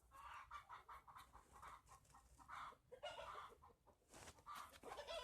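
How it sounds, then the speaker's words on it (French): A hen clucks repeatedly in short, insistent bursts while laying an egg, close by, with scratchy farmyard noise around it and no talking. "la poule est en train de pondre"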